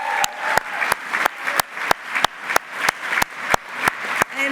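At a graduation ceremony, the audience claps in rhythmic unison, sharp, evenly spaced claps roughly three per second, loud and close, with a faint crowd murmur between them.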